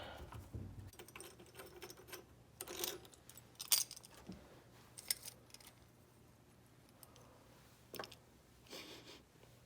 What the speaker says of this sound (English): Break these loose with the flathead, and then run them the rest of the way out with the Torx